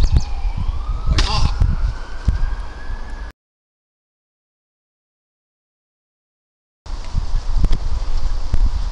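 A distant siren wails with a rising and falling tone over an allotment garden, mixed with wind and rustling leaves, then drops out into a silent gap before outdoor ambience returns.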